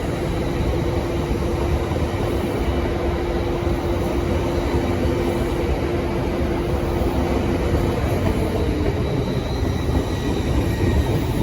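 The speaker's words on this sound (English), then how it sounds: "departing now is 803001, bound for Edinburgh Waverley." A train pulls out of London King's Cross bound for Edinburgh Waverley, a loud, steady rumble with a sustained hum and some wheel noise throughout.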